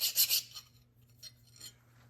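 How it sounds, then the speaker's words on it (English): Hand filing a steel snap ring on a PTO shaft, giving a short burst of harsh rasping strokes followed by a couple of fainter scrapes over a low hum. "So now we're trying to file the snap ring a little bit."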